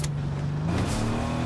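A car engine hums close by, steady and loud, with a low tone that rises briefly partway through.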